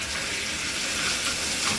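Water runs from a Delta faucet after its cartridge has been replaced. The steady, fairly loud hiss of the flow continues unbroken for about two seconds.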